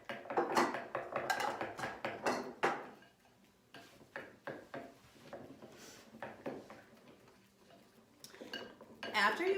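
A utensil stirs glue and food coloring together in a container for slime, producing irregular clicking and scraping taps that come and go in bursts, with a voice talking faintly at points.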